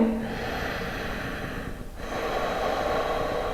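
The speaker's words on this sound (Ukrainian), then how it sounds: "Дихаємо глибоко через ніс уджаї." Deep, steady ujjayi breathing through the nose during a yoga stretching session, a continuous close airy rush with a brief dip in the middle, heard alone without talk.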